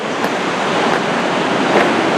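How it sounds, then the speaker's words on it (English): North Sea waves crash and wash against the shore at Scarborough, a loud, continuous roar of surf with wind noise buffeting the microphone and no voices. "I'm back to the noise of the North Sea."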